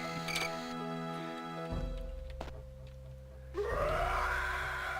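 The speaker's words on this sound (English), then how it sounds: "With the screams from God the fuck knows where." Distant, eerie screams from the Daggerfall video game, including a rising wail near the end, rise over a droning game soundscape with tonal hums and a few clicks, with no talking.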